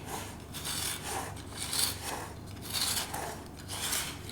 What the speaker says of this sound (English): get a palette knife and very carefully cut